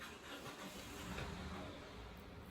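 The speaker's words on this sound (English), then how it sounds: "with the window open, there's going to be a few car noises" Traffic noise from cars drifts in through an open window, a steady broadband engine rumble and road wash running continuously at moderate level with no talk over it.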